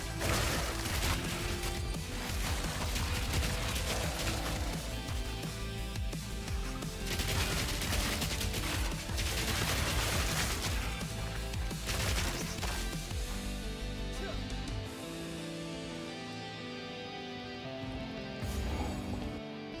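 Chaotic spell explosions and impacts in Path of Exile 2, a dense barrage of bursts and crashes layered over game music, thinning out near the end.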